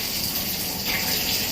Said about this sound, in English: all the test tubes under running tap water